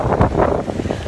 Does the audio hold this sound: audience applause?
no